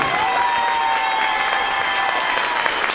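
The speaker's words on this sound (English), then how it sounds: "please give them a round of applause" Crowd at a political rally in Maine applauding, a dense, steady wash of clapping that fills the whole stretch at even loudness, with some faint background voices mixed in.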